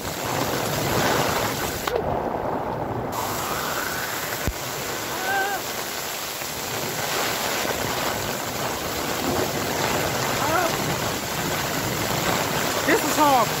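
Heavy rain pours during a thunderstorm over a flooded city sidewalk, making a loud, steady, broadband wash that never lets up, with a person talking over it.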